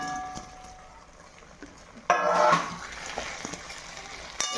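Pakoras are dropped into hot oil and a sudden burst of sizzling frying swells and then settles into a steady bubbling crackle, close and moderately loud.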